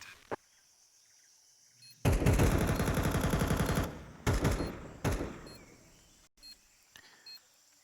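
Gunfire in a professional Counter-Strike match at IEM Katowice 2025: a long sustained automatic burst, then shorter bursts and a few single shots, loud and close, with no talking.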